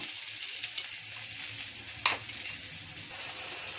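Onion frying in mustard oil, a soft continuous sizzle with light stirring scrapes and one sharper clatter midway, fairly quiet and close with no talk.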